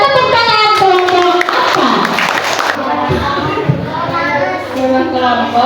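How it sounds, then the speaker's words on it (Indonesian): Classroom of children claps for a presenting group, loud close clapping with excited young voices calling out and chattering throughout. "Berikan tepuk tangan kelompok"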